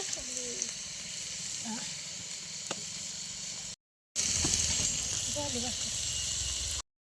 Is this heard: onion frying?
yes